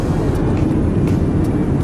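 Steady broadband cabin roar of a British Airways Boeing 787 airliner in flight, a constant, even engine and airflow rush with no voices.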